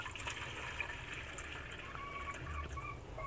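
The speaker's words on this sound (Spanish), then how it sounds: "aquí ya les estoy echando su agua" Water poured out for farm animals on a ranch in the morning, a steady close splashing and trickling that runs evenly throughout, with no talking.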